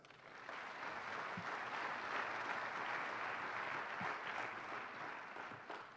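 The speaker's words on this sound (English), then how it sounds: "let's give a big round of applause and welcome to our next speaker, our City Manager, Pat West." An audience at a police chief's swearing-in ceremony claps to welcome the city manager, a soft, distant, even wash of applause that holds for several seconds and tapers near the end.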